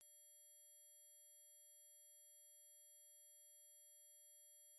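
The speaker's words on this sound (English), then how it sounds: "If you heard this high frequency sound, like the video and leave a comment." Steady high-pitched sine test tone held continuously and faint, with a few thin higher overtones, otherwise silent.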